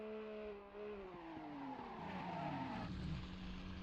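A race car in a sim racing game at the Nürburgring Nordschleife slides sideways across the finish line, its engine droning in steady harmonic tones while the tires squeal and skid, loud and close with no talking.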